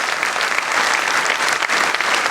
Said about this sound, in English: a huge round of applause for the children